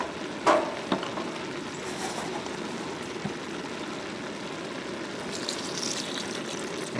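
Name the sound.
water added to camp stew pot, sizzling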